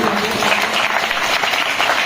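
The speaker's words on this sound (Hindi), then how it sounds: "आप लोग ताली बजाते रहिए।" Steady applause from a crowd at a student awards ceremony, continuous and fairly loud throughout, with no voices standing out.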